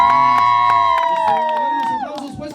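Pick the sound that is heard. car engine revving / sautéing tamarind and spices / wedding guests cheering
wedding guests cheering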